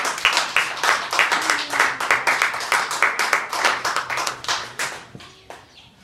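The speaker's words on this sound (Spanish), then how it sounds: "Denle un fuerte aplauso al Señor" A church congregation claps in rhythm, loud and close, a pulsing beat of hand claps carried over several seconds before tapering off near the end, with no talking.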